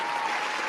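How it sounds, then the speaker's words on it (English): A short burst of steady clapping from a small group applauding during a podcast, dense and continuous for under a second. "round of applause to hip hop"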